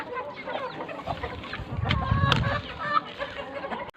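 Hens in a backyard coop cluck and chatter nearby, with overlapping short calls and a few sharper squawks against faint background activity.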